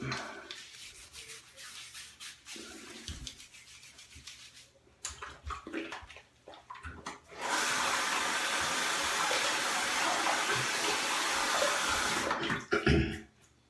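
Water from a tap running over an OmniShaver electric shaver to wet it before shaving, a steady rushing spray up close after some brief handling and rubbing noises.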